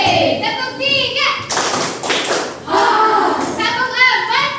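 Children in a classroom clap together in short rhythmic bursts while young voices chant along, the claps and speech mixed and close.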